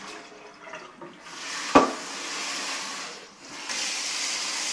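Fresh corn masa gets rinsed in a colander under running water, a steady close hiss and splash with one sharp knock partway through, and no voices.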